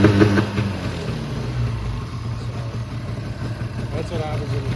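A 1999 Ski-Doo MXZ 600 snowmobile engine runs steadily, held to about 3,000 RPM, with a low, even mechanical drone that is slightly louder at the start.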